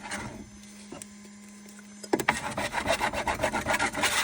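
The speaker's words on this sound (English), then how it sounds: "Put Pritt stick on here to get it to stick to it." A Pritt glue stick rubs back and forth across a 3D printer bed, a close, raspy scraping in quick repeated strokes that follows a steady printer hum and a couple of clicks.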